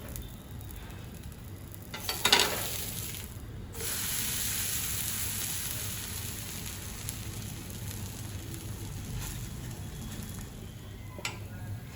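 Sweet pudla, a Gujarati pancake, frying in butter in a pan: a steady close sizzle throughout, with a brief clatter of utensils early on and a soft tap near the end.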